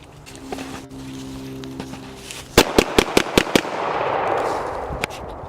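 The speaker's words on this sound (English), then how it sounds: "It's crazy that a pistol is just that loud." Pistol gunshots ring out in a rapid string of six sharp, loud cracks, then one more single shot a moment later, over a steady outdoor background.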